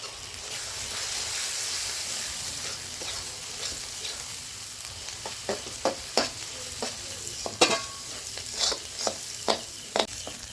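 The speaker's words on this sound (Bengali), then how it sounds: "জল ঝরিয়ে রাখা মাছের ডিম আমি দিয়ে দেব" Drained fish roe frying in a pan as it is stirred, a steady oily sizzle broken by repeated sharp scraping strokes of a spoon against the pan.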